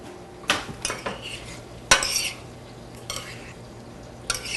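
A spoon clinks and scrapes against a pot of bubbling cooked carrots, with several distinct metallic knocks spread across a few seconds over a quiet simmer, no talking.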